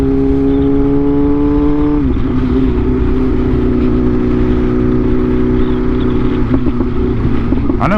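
A motorcycle running on E85 fuel idles and revs with a loud, close, droning engine note, its pitch dropping as a gear is shifted without the quick shifter, then holding steady.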